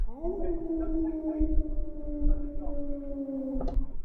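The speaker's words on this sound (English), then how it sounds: "anyone hear a wolf noise?" A long, steady wolf-like howl rises quickly and holds its pitch for several seconds before breaking off, heard over low background murmur during a pub quiz show.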